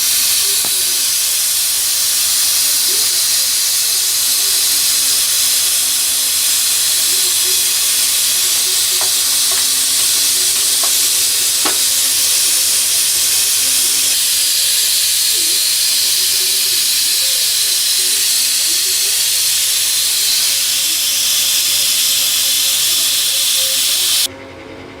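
A pressure cooker cooking salted rice on a gas stove vents steam in a loud, continuous hiss that stays steady for the whole stretch before cutting off at the very end.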